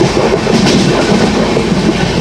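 Dibrugarh Rajdhani Express rolling along the Bareilly–Moradabad line on a cold, dewy stretch, with a steady, loud interior rumble of wheels on rails and faint rhythmic clatter continuing throughout, no voices.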